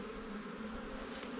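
Honey bees hum in a dense, steady buzz while a hive is opened for inspection, a close continuous drone with no pauses and no talking.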